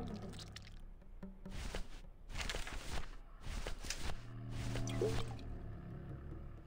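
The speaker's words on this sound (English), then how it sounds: "Let's go pour this shit on this gel." Liquid nitrogen poured onto gel in the adventure game Grim Fandango: a series of wet, squishy pouring and dripping bursts in several pulses, moderately loud against a faint low background hum.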